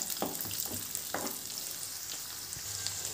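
Garlic and onion fry in oil over a medium flame for garlic chutney, a close, even sizzle with a few distinct knocks and scrapes of a stirring spoon, no voices.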